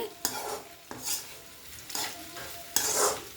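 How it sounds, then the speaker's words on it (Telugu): Bitter gourd pieces stir-fried in a pan for a spicy fry: a spatula scrapes and stirs through the pieces in three or four distinct sweeps over a soft, steady sizzle, with no talking. "బాగా వేగిపోవాలి. ముక్క అయితే మగ్గిపోయిందండి, కానీ ఇంకా బాగా వేగాలి."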